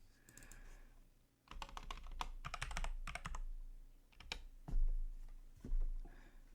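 Typing on a computer keyboard: quiet bursts of close key taps in short irregular runs with brief pauses, and no voices.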